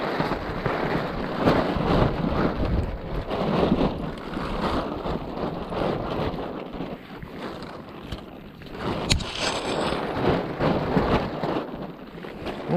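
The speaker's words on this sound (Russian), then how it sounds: "вытряхиваем всякое из палатки" A camping tent is shaken out outdoors in the wind, giving continuous flapping, rustling fabric and wind buffeting on the microphone, with a brief sharper snap partway through.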